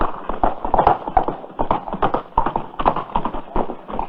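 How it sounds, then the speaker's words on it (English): A former racehorse gallops past, its hooves pounding in a fast, uneven clip-clop rhythm that sounds fairly close. No one speaks. "Look at that horse run."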